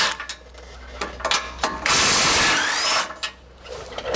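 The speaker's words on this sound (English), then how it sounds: "So get you a 17mm socket, impact, ratchet, whatever you use." A ratchet fitted with a 17mm socket works loose the lower bumper bolts on a 2014-or-later Toyota Tundra, giving bursts of close clicking ratchet strokes with a longer, steady whirring stretch in the middle.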